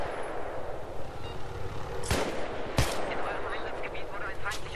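Gunfire in the multiplayer video game Battlefield 3, with two loud distinct shots standing out over continuous background battle noise, while German-speaking players talk.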